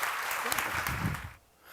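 Clapping breaks out from the audience at a church seminar, a dense burst of hands that fades after about a second and a half, with voices mixed in.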